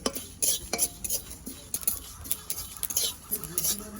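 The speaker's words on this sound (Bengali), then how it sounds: "দিয়ে আমি শুকনো খোলা ভেজে নেবো" Whole dried red chillies, cumin seeds and five-spice being dry roasted in a pan, with repeated scraping and metallic stirring clatter in a steady, busy rhythm, fairly close, and no talk.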